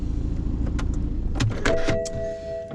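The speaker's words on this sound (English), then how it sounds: "let's turn off the engine" A car engine idles steadily during a driving mock test, then shuts off; a steady electronic chime follows as the low rumble fades, with no talk over it.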